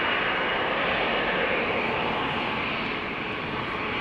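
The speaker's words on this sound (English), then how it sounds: "You might have picked up already on the sounds of a Dreamliner spooling up" Jet engines of a Boeing 787 Dreamliner spool up at Amsterdam Schiphol Airport in a dense, continuous roar that holds steady and loud from start to finish, with no talking.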